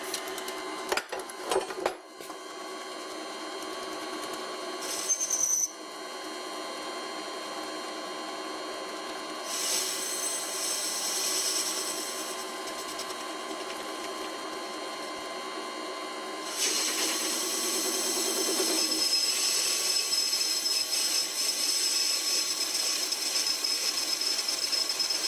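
Metal is turned on an old wood lathe running at about 500 RPM, a steady mechanical whir with a scraping, chattering cutting tone that shifts and grows louder partway through, with no voices.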